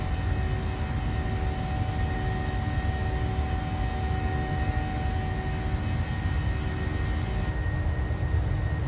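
Boeing 737-700 engines at takeoff in Microsoft Flight Simulator, a steady, loud, even roar with a faint high whine throughout and no speech.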